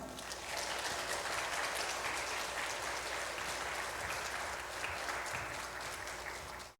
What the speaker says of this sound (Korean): 우리가 큰 박수로 한번 환영합시다